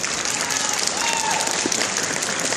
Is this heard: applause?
yes